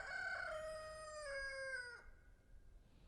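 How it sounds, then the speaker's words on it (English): A rooster crows once, a loud drawn-out call with a rising then falling tail, ending abruptly into quiet background. "I love that rooster."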